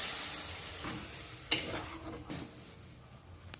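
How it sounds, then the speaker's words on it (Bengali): Sauce being stirred and mixed in a pan while making chowmein, with soft scraping and low sizzling, a couple of sharper utensil knocks against the pan, no talking. "এখন সব মিলিয়ে নিচ্ছি ভালো করে"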